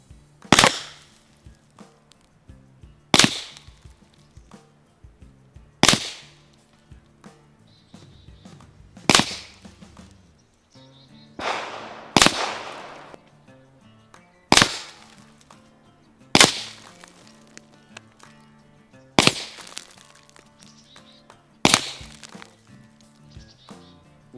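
Suppressed gunshots from a rifle fitted with an SDI GRAD suppressor on a tri-lug mount, outdoors: nine sharp cracks spaced a few seconds apart, each with a brief echoing tail, no talking.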